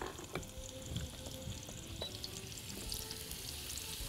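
Onions fry in ghee in a pan with salt and pepper, giving a dense, continuous sizzle and crackle close by, with no talking.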